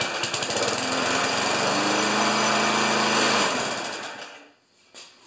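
A Murray lawn mower with a Briggs & Stratton Classic engine runs loud and steady at close range for several seconds, its buzzing drone then cutting off and fading to near silence.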